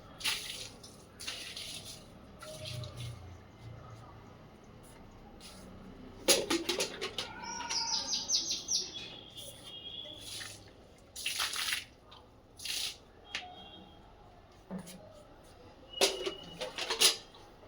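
Water splashing and dripping on a sunny rooftop where water has been poured out, with scattered close drips and splashes between quieter stretches and faint bird chirps in the background.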